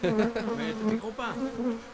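Bees swarm in a dense, close buzz at a beehive, with the droning rising and falling in waves.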